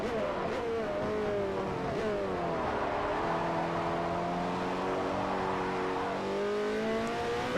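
GT2 race cars scream through a race in Forza Motorsport 4, engine notes rising and falling as they accelerate and shift, with a second car's whine layered beneath, loud and continuous.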